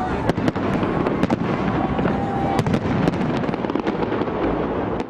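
New Year fireworks over Red Square in Moscow and at Giza in Egypt, a dense, continuous crackle of bursts and sharp pops close by, loud throughout.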